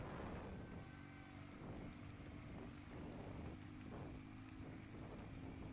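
STOL aircraft Yeehaw 8, flown by Steve Henry, taxiing to the line at an Appalachian Mountain short takeoff and landing competition, a steady propeller drone with pulsing throb and gusty wind noise throughout.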